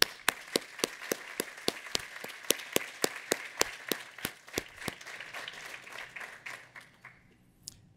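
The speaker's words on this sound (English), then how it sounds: "Let's give a shout and an applause to our Penn State faculty." A commencement audience applauds the Penn State faculty with crisp, rhythmic clapping that stays fairly regular, then thins out and fades near the end.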